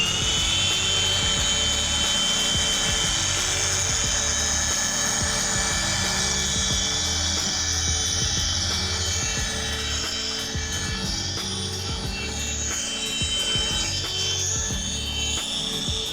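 A car polisher with a wool pad works black paint, giving a steady loud high-pitched machine whine with a constant mechanical hum underneath and no pauses.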